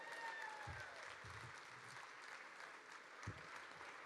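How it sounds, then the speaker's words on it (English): Steady applause fills a conference hall after a talk, dense hand claps continuing alone throughout, with a few low thumps and faint whistle-like tones. "Give yourselves a round of applause"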